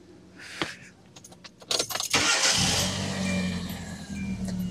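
Keys jingle, then a 2010 Hyundai Accent with an idle misfire cranks briefly and starts, settling into a steady close idle with rising engine rumble; no voices.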